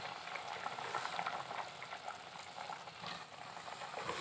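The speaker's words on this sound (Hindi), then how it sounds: "और अब मैं इसमें डाल रही हूँ पालक।" Soft bubbling and quiet sizzling from a pot of simmering mutton curry as spinach goes in, a faint, continuous patter of liquid heard close with no talking.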